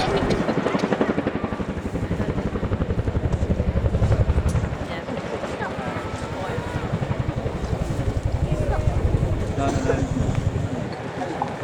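A twin-rotor RAF Chinook helicopter repositioning forward and down at the Royal Air Force Cosford Airshow, its rapid rotor thudding loud and continuous with steady rhythmic beating, under a commentator's voice.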